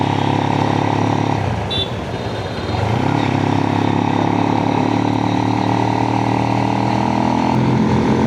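A motorcycle ridden along a road, its engine droning loud and close throughout, with a short dip in pitch as the rider eases off before the steady roar resumes.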